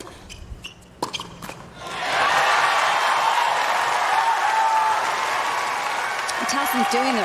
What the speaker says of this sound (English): with the sound of the crowd